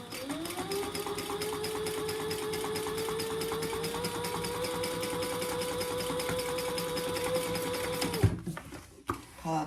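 A sewing machine stitches a laptop bag in a fast, steady mechanical chatter with a whirring motor tone, running close and continuous for about eight seconds before stopping abruptly.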